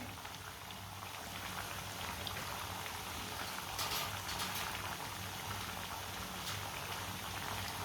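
Food for shami kebabs cooks over a medium flame with a constant, dense bubbling sizzle, faint and even throughout with a few brief brighter crackles.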